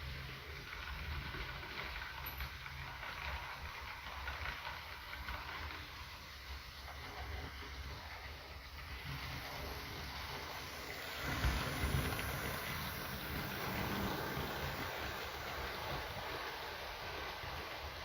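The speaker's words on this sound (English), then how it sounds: "this loco, amazingly, was actually the most powerful loco in Britain, freight loco, until the 9F came along, so big powerful beast, this thing" A model British freight steam locomotive runs with a soft, continuous rumble and hiss at a steady low level, with a slightly louder bump about two thirds of the way through.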